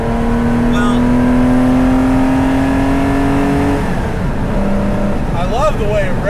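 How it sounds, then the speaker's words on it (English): A 1973 Porsche 914/6 flat-six engine revs high and steady, then drops off and revs again in short bursts, loud and close with a faint voice underneath. "I love the way it revs. It's really, really good motor."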